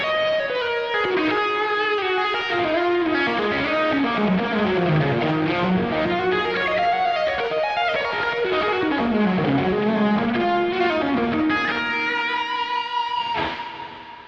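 An electric guitar plays a fluid, highly distorted scream lead tone through a Line 6 Helix, with sustained bending notes and fast runs, loud and alone.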